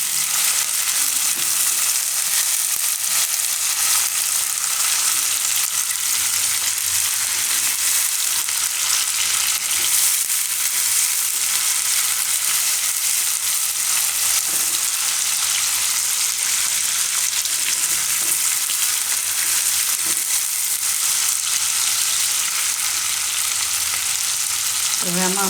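Green chillies fry in hot oil in a pan with a steady, dense sizzle and crackle that holds for the whole stretch, with no talk over it.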